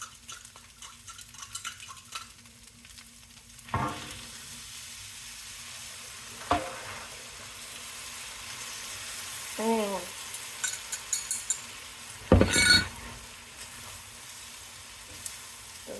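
Pepper steak sizzling in a pan with rice mixed in, a low steady fry underneath, broken by occasional scraping stirs and metal clinks, with a louder cluster of utensil knocks near the end.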